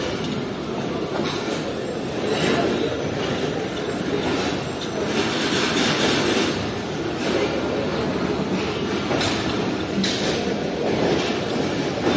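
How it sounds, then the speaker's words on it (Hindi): The 40 Down Jaffer Express pulls out of Rohri Junction railway station in winter, a steady loud rumble of rolling wagons with wheel clatter and occasional squeals running unbroken throughout. "ये हमारी 40 डाउन जाफर एक्सप्रेस निकल रही है रोड़ी जंक्शन रेलवे स्टेशन से"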